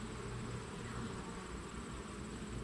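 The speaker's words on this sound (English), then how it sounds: "Got some bees bickering." Honey bees bickering at a hive during a post-treatment inspection: a steady, dense buzzing hum from many bees close by, faint but constant, with no talking.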